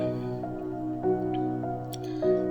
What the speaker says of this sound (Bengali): ভালোভাবে নেড়ে চেড়ে মশলাগুলো কষিয়ে নেব মাছের মাথাগুলো দিয়ে নিলাম